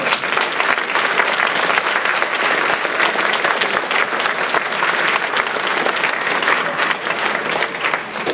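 A roomful of alumni applauds the staff at a college alumni recognition brunch. The clapping is loud and close, a dense, even wash of many hands that continues steadily for over eight seconds without talk.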